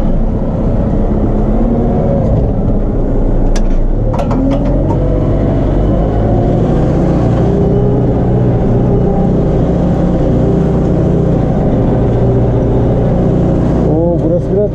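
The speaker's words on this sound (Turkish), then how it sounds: "Traktör dört teker patinaj yaparak gidiyor." A Case JX110 tractor working a muddy wheat field in four-wheel drive as its wheels slip, with a loud, steady diesel drone close by and a brief rise in revs near the end. A voice speaks over the engine.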